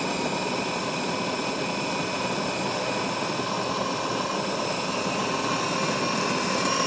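A European-version Jura J5 espresso machine pulls a shot, making a loud, steady mechanical drone with a constant whirring hum close by and no pauses.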